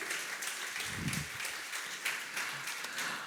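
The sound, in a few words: congregation clapping hands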